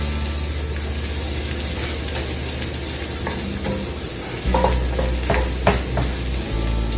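Butter melting in a frying pan for corn soup, a steady, loud, close sizzle throughout with a few extra pops and clinks of a utensil toward the end.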